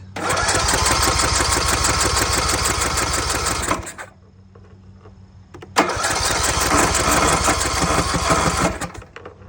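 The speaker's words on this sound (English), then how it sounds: "So it's not working, it's not firing underneath its own power." A carbureted small engine with a Nikki carburetor is cranked with a JS 2000 jump starter but won't fire. A loud, rapid whirring crank runs about four seconds, pauses briefly, then cranks again.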